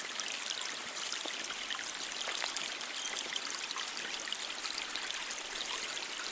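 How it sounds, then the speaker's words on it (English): A small stream of murky water flows and bounces over bright orange rocks, giving a steady, close trickling and babbling wash that carries on evenly throughout, with no voices. "before me was a little flowing stream of murky water, bouncing between bright orange rocks"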